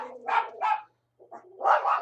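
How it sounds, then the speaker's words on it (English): Dogs barking, two quick close barks, a brief pause, then another burst of barks, loud and clear, with no other sound around them. "those dogs are gonna be barking."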